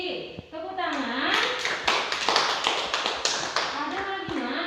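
Students in an Indonesian classroom clap for a classmate, a burst of sharp close hand claps mixed with children's and adults' voices talking over it throughout.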